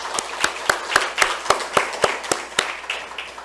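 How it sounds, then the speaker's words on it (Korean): Scattered hand claps from a church congregation during an afternoon praise-worship gathering, about a dozen sharp separate claps in a loose, slightly uneven rhythm, fairly near and clear with no talk over them. "우리 찬양팀을 위해서 우리 한번 뜨거운 박수로 격려의 박수를 한번 주시면 고맙겠습니다"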